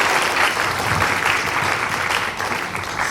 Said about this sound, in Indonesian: Saya tepuk tangan untuk Pak Aprinus juga yang pertama